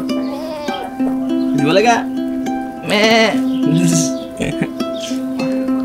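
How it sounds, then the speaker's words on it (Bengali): Small young goats bleat several times at close range, their calls mixed with people talking nearby in a rural village setting. "ছোট ছোট কিউট কিছু ছাগল আছে।"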